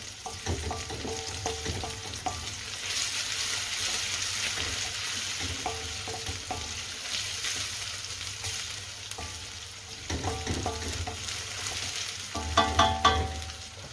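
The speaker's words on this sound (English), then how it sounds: "we're going to saute those onions for about 2 minutes" Onions sauté in a pan for a balti, with a steady sizzle of frying under repeated bursts of stirring, the spoon scraping and tapping the metal at intervals, louder near the end.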